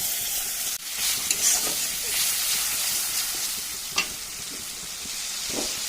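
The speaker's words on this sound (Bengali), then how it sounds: "পেঁয়াজগুলো ভাজা হয়ে গেছে দিয়ে দিচ্ছি মশলা" Spices added to fried onions in a wok, giving a continuous close sizzle with occasional spatula scrapes and a couple of sharp knocks against the pan.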